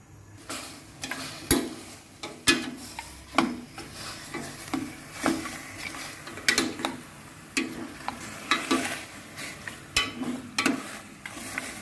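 Pork ribs cooking in a hot pot on a stove, with a steady run of rhythmic scraping and stirring strokes over a low sizzle, close and fairly loud, with no talking.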